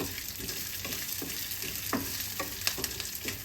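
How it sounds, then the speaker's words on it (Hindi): Chopped green chilies sauté with roasted lentils in a pan, a faint, steady sizzle broken by intermittent spatula scrapes and taps. "हरी मिर्च को भी अच्छी तरह से सौटे कर लें।"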